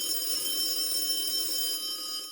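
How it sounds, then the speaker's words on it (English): A telephone rings with a steady, faint electronic trill that holds unbroken for a couple of seconds and then cuts off. "when the phone rang"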